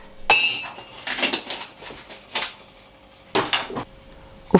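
Porcelain cups and dishes clink and knock together in a few sharp, close contacts, a bright initial chink followed by softer rattles and a couple more clinks, with no talking.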